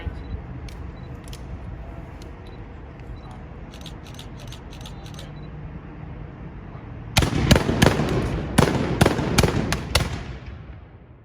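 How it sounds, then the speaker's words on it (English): A rifle company fires a ceremonial musket volley, a feu de joie, at an outdoor anniversary ceremony: after faint scattered cracks, a loud rippling run of shots bursts out and rolls on for several seconds before fading. "The rifle company will now fire a musket volley"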